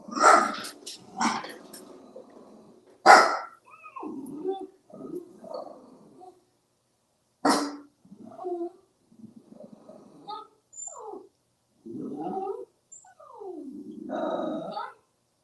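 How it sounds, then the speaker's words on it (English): Small dogs at home bark in short sharp bursts and growl between them, reacting to someone passing by, fairly close and moderately loud. "That's my puppies just letting me know someone's passing by."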